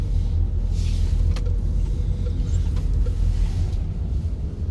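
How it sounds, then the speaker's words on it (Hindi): Two-way road traffic on a London route between Battersea and Hanger Lane: a steady, loud low rumble of passing vehicles that continues throughout, with no talking. "देख सकते हैं आप इस वक्त दो रोया ट्रैफिक मौजूद है यहाँ पर"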